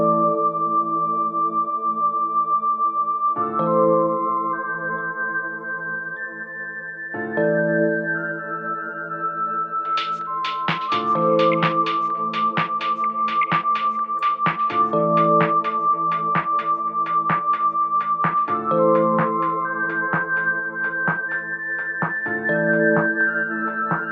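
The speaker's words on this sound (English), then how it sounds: "I used something a bit bizarre, which is a whistle" A high, steady whistle melody rides over a looping synth dance track, which leaves the breakdown and swells into a pulsing drop with sharp rhythmic hits about halfway through.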